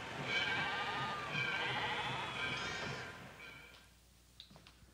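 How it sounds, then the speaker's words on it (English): Sheep bleat in a quavering chorus of several overlapping calls, fading out toward the end against a quiet background. "let's go watch them slaughter the sheep"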